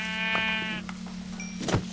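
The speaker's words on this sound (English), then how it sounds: "Oh my god, there's a sheep." A sheep bleats in the Minecraft video game, one loud, close, wavering bleat followed by a few soft game clicks and a short rustle near the end.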